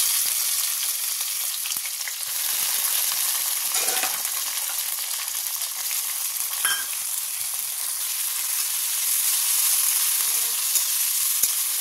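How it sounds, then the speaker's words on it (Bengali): Vegetables frying in a pan make a loud, even sizzle that holds steady throughout, broken by a couple of brief scraping stirs, heard up close without anyone talking. "সবজিগুলোকে ভেজে নেব।"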